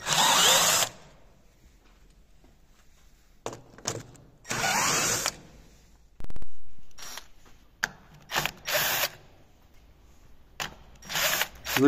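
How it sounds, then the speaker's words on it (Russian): Metabo cordless screwdriver tightening new bolts on a car roof rack at its maximum clutch setting of 20, heard as several separate whirring bursts of varying length with quiet pauses between, close and loud. "Закручиваю я багажник шуруповертом на максимальной трещотке со значением 20 в моем метабо."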